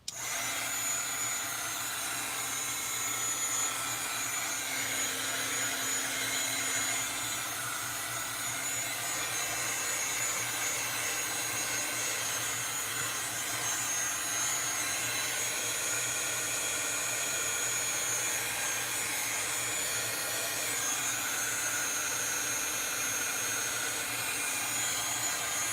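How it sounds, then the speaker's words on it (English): A heat gun blows a steady, loud stream of air for the whole stretch, moving mist-sprayed paint around a northern lights background without talk. "I'm going to work my heat gun around, not necessarily trying to dry it"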